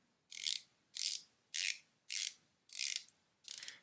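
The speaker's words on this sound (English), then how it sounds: "Nice ratcheting sound." A dive watch's 120-click steel bezel ratchets in six short bursts of rapid fine clicks, evenly spaced with quiet pauses, close up.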